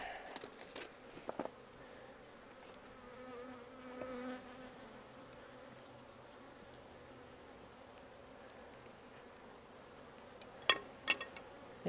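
Honeybees buzzing around a hive whose comb is built underneath a cover, a faint steady drone with a few sharp knocks and rustles near the start and end.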